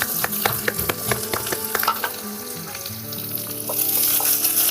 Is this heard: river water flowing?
no